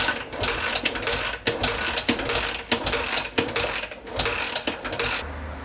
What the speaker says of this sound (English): you pull in your decompression lever, and then you pull your throttle down and then kick it through 10 times